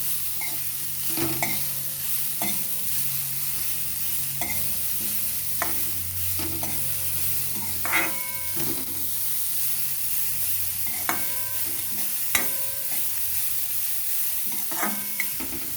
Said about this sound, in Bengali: এটা ঢেলে দিলাম এটাকে একটু ভেজে নেবো